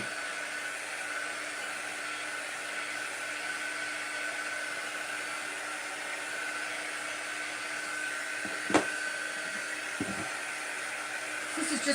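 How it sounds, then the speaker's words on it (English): A small, low-heat air dryer drying chalk paste runs with a steady, even whirring hiss throughout, close to the microphone, with a few brief knocks near the end. "I'm just going to hit all of these with a quick air dryer."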